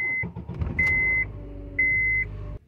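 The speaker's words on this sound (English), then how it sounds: "I'm gonna turn on the vehicle." A Honda Accord with a 2.4 or 3.0 engine and a misfire fault sits with the ignition on, giving three electronic chimes over a low engine rumble that cuts off abruptly near the end.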